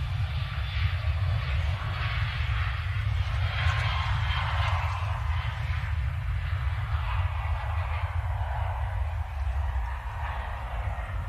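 A Ryanair jet bound for Cologne rolls for takeoff at Manchester Airport, its engines producing a steady, fairly loud roar with a deep rumbling base and a hissing upper layer throughout.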